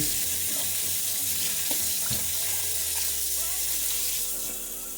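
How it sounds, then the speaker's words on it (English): Steady running water from a tap splashing into a sink, continuous and close, with faint clinks and sloshing as flour dough is washed. "Washing it, dumping the water out, adding new water in."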